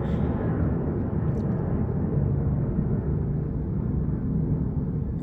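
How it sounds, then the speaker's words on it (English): A steady, low roar of a jet aircraft passing overhead fills the air, continuous and rumbling throughout with no voices. "there goes an airplane overhead."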